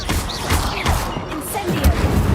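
Spell effects from Hogwarts Legacy-style gameplay: an Accio summoning cast that sounds as a dense stream of magical whooshes, thuds and crackles, steady and fairly loud throughout, mixed with game sounds and no clear talk.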